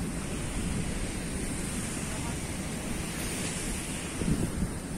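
Ocean surf washes onto a beach at Ankwanda near Elmina in Ghana's central region, a steady broadband roar with wind buffeting the microphone throughout and a slightly louder wave swell near the end.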